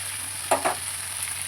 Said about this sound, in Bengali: এই দেখো আলুটা আর পেঁয়াজটা বেশ অনেকটা ভাজা ভাজা হয়ে গেছে